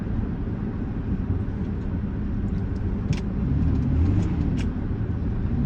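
A loud, modified car engine rumbles steadily and close by for the whole stretch, with deep low-end drone and a few brief higher mechanical pops near the middle.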